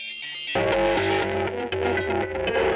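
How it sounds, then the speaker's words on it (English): A guitar, run through a ring modulation effects pedal patched with a Eurorack modular setup and set to square wave modulation, comes in suddenly. It sounds harsh, metallic and distorted, with dense clashing overtones that ring on steadily and loud. "I can switch that over to square for something a little bit more harsh."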